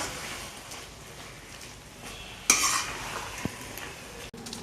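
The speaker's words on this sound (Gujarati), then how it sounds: "દહીં નાખ્યા બાદ સતત હલાવતા પણ રહીશું" A yogurt mixture being stirred in a pan over a low flame for a Mehsana onion dish, with a soft sizzle under a sharp spoon scrape and a few light clinks against the pan.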